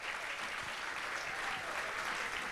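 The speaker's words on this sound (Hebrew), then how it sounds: "איפה מחיאות הכפיים לגברים פה?" Dense, steady applause from an audience at a rabbi's lecture, clapping for the men present, loud and sustained throughout with no break.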